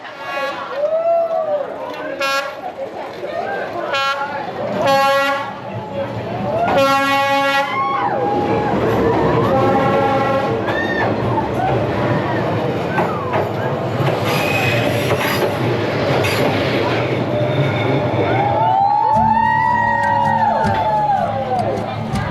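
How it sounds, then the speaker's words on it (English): A full-sized train rumbles past at close range through a narrow street lined with cafes in Vietnam, with squealing wheels and clattering cars, while a crowd murmurs and chatters nearby. "A full-sized train literally squeezes through the street, passing just inches away from cafes and restaurants."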